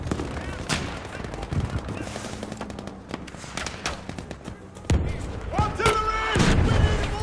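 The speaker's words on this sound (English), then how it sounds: "Artillery! We need to move!" Artillery fire lands around a Battlefield 5 Breakthrough match at the Al Marj Encampment: sharp gunshot cracks and bursts of rapid fire, with heavier booming impacts swelling toward the end, and voices calling out over the din.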